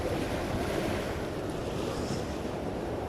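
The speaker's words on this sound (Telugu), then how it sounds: "ఇక్కడ అటువైపు అంతా అల్లలు ఉన్నాయి" Sea waves and surf roar steadily at Gollapalem Island in heavy rain. The noise is dense and unbroken, with strong wind buffeting the microphone.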